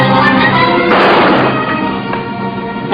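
Gunfire blasts in an old monster film are heard loud and dense, with a heavy boom near the middle and a reverberant rumble that fades.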